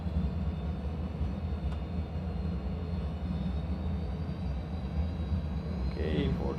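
Airliner engines in a flight simulator spool up at 40% throttle, a steady low droning rumble with a faint high whine, constant and moderately quiet throughout.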